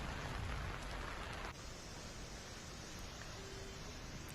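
Steady rain falling during monsoon weather in India's northeastern states, a dense even hiss throughout with a slight drop in level partway through, no voices.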